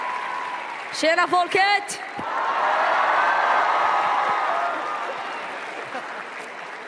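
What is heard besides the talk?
audience applause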